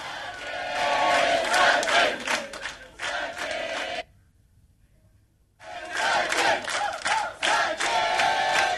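An office staff crowd erupts in loud cheering and battle cries for Sachin's hundredth century, breaking off into a short silence before the roar resumes just as loudly.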